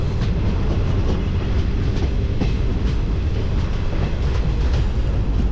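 A train runs along the Haldibari line toward the Bangladesh border, a loud, continuous rumble of wheels on rails with faint rhythmic clacks throughout.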